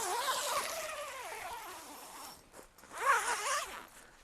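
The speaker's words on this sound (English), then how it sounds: "To open the main door, you're going to use the outside zipper." The outside door zipper of a Nunatak Apex hot tent is pulled in two long, rasping runs, the first steady and the second after a short pause, close and clear.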